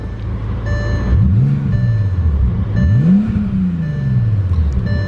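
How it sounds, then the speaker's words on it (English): A Bentley Continental GT Speed engine revs twice through a deep exhaust, each rise and fall sweeping up then easing down, loud and close over a steady idle. "it's got a little bit more aggressive of an exhaust"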